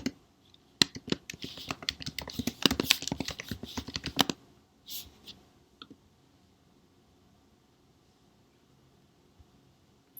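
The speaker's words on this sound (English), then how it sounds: "click on the search bar in the top right corner of the map frame and type in Vancouver" Rapid clicking and typing on a computer keyboard, a dense burst of close, crisp keystrokes for about four seconds, then a few scattered clicks fading into near silence.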